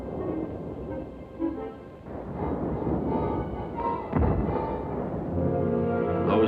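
German artillery firing from hilltops during the World War II battle for Salerno, with booming thuds and a rumbling, sustained wash of distant gunfire, sharper bursts near one and four seconds.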